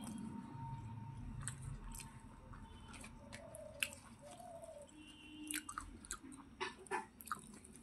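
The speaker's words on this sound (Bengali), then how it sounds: "আজকে লুচিটাকে দেখো রোল বানিয়ে খাচ্ছি।" Someone chewing a rolled luchi, a fried bread filled with spicy potato curry, with soft close squishy bites and mouth sounds at a quiet level and no speech.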